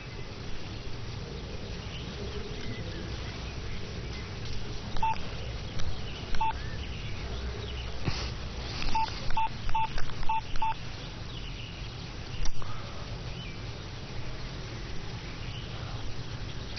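Telephone keypad tones beeping as a number is dialed, a series of short evenly spaced beeps over a low room hum, fairly faint.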